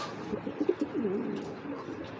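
Giribaz pigeons coo on a rooftop, a run of low, rolling coos that rise and fall over a steady background hum, fairly close and moderately loud.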